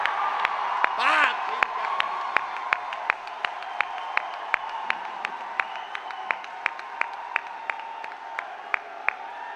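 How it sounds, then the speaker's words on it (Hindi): Sparse, scattered clapping from an audience at an all-India poetry gathering, weak and evenly spaced claps under a steady crowd murmur, with a brief shout near the start. "कमजोर तालियों से मेरे भीतर खुशी नहीं आती है"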